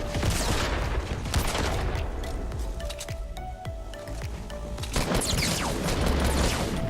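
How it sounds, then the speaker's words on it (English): Explosive rocket impact and scattered gunfire from a Fortnite match on Xbox console, a dense, loud burst of game combat noise that stays busy throughout, with crashes and bangs near the start and again toward the end. "See, right here I get hit by that rocket."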